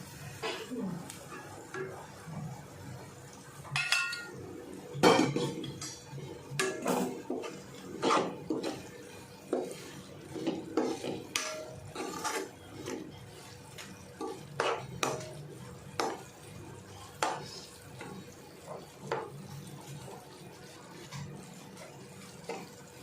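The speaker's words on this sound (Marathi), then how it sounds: "आता ह्याला दोन मिनटं फक्त मिक्स करायचं" A wet kolim (tiny shrimp) pickle is stirred with oil in a pan, producing scattered, irregular clinks and scrapes of a spoon against metal, close and moderately loud, with short quiet gaps between strokes.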